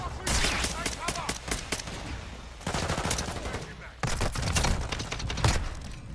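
Dense video-game gunfire in a tactical shooter battle, with rapid automatic bursts and single shots stacking into continuous loud volleys, broken by brief pauses, while voices shout over the din.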